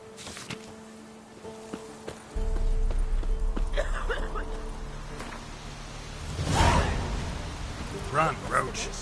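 Roach, a horse in The Witcher 3: Wild Hunt on PS4, gallops along with steady rumbling hoofbeats under game ambience, a loud whooshing swell midway, and someone talks over it.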